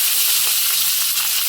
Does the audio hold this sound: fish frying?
yes